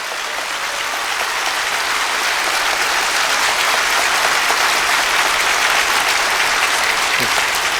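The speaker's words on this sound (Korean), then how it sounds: "성도 여러분, 동의하시면 박수로 화답해 주시기 바랍니다." A church congregation at Sungrak Church claps in sustained, dense applause, loud and steady from start to finish without a break.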